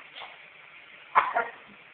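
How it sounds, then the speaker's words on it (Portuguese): A baby coughs in two quick bursts after laughing, close and fairly soft, following a faint earlier sound in a quiet room. "De tanto rir, tá até tossindo."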